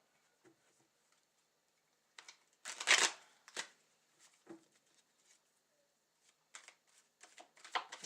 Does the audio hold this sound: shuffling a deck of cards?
yes